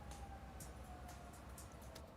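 Several emergency sirens passing outside a city apartment, heard faintly and distantly through the walls as a thin wailing tone that holds under a low background hum, with no talking.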